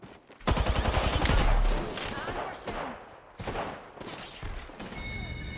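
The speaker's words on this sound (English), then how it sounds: "Getting shot at." Rapid bursts of gunfire in an Apex Legends-style shooter crackle loudly and close, a long burst followed by shorter volleys and scattered shots.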